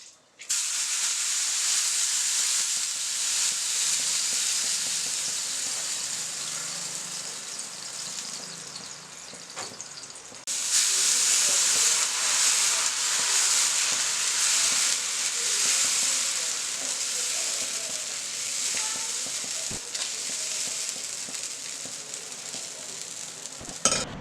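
Dosa batter sizzling on a cast iron tawa, a continuous loud hissing sizzle that dips briefly midway before returning strong, with no voices.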